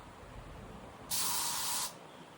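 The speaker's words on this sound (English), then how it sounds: "So if I spray you every now and again, it's because of flies." A single spray of insect spray aimed at flies outdoors, lasting under a second as an even, bright hiss that starts and stops abruptly against quiet background noise.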